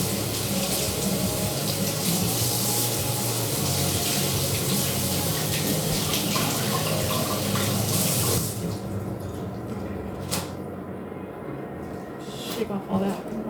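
Tap water runs steadily and loudly from a kitchen faucet while vegetables are rinsed, a dense continuous rush that stops about two thirds through, followed by quieter kitchen handling noises.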